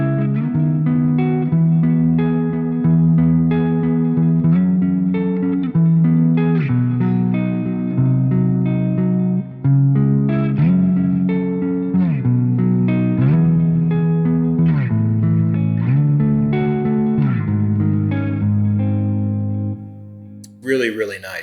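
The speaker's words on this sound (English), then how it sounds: "I'm going to turn on the compressor. I'm gonna turn on the widener. And we're going to put a little reverb and delay on it here." Clean-channel electric guitar run through a compressor, stereo widener, reverb and delay, playing continuous chords and melodic lines at steady loudness for about twenty seconds, with a brief drop near the end.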